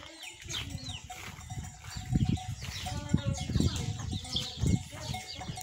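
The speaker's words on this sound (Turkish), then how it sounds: "Tavuklar." Chickens clucking at a village farm in the morning, several close birds giving short repeated clucks and squawks, with a voice speaking briefly among them.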